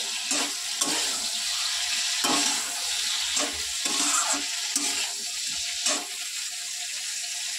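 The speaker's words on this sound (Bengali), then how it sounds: "এখানে কপিটা ভাজা হচ্ছে।" Cauliflower fries in hot oil flavored with cumin, giving a loud continuous sizzle close by, broken by repeated scraping stirs of a spatula throughout.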